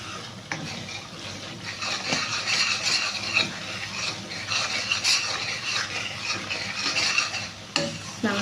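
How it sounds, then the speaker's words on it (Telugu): Masala frying in oil for egg Mughlai curry gives a continuous close sizzle with scraping stirs and occasional light clicks of a spatula against the pan. "మసాలా అంతా మంచిగా ఫ్రై అవ్వాలి అంతవరకు మనం ఫ్రై చేస్తూనే ఉండాలి"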